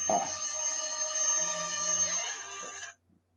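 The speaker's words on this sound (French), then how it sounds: "J'ai le téléphone qui sonne" A telephone rings with a steady electronic tone for about three seconds, then stops abruptly, leaving near silence.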